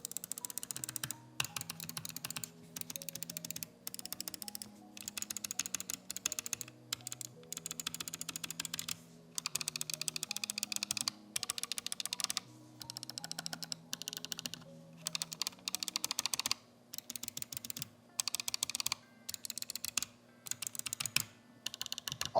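Small gaming mice with Omron 20M switches, such as the Viper Mini, Deathadder Mini, Model O- and Model D-, clicking in quick bursts of crisp, close clicks separated by short pauses, with no talk.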